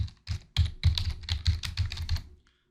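A short close burst of typing on a computer keyboard, about a dozen crisp key taps in quick irregular rhythm, then a brief stop and silence.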